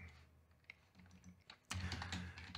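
Typing on a computer keyboard while setting up an email auto reply, quiet scattered key clicks that turn into a louder, dense burst of rapid keystrokes near the end.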